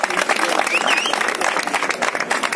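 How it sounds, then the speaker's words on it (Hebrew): Guests at a religious wedding clap and applaud continuously in a dense, loud burst of hand claps, with crowd voices mixed in. "הרבה מחיאות כפיים."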